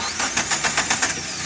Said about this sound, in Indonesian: Sekarang kita coba untuk starter.